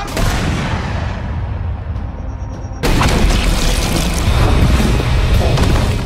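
Gunfire from a sniper in an action film lands as a heavy boom, followed by a sharp second blast with crashing debris, loud and reverberant against a tense, mechanical backdrop.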